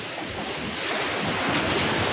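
Ocean waves rolling onto the shore at Morong, Bataan, a continuous loud rushing surf swelling toward the end, with wind buffeting the microphone and no talking.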